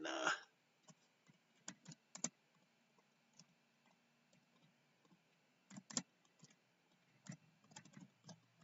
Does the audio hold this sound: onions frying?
no